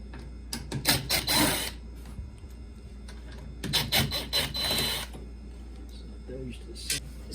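Screws being taken out of the drain pump on an LG washer, with two loud bursts of buzzy mechanical whirring separated by quieter handling noise, then a short final burst.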